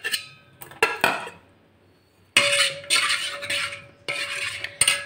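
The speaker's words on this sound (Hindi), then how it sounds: "ये दूध में पूरा अंडे की जर्दी को इस तरह डाल दूंगी और मिक्स कर लूँगी।" Metal utensil clinking and scraping against a pan while egg yolk is mixed into milk, in short bursts of rapid stirring separated by brief pauses, close and clear with no talking.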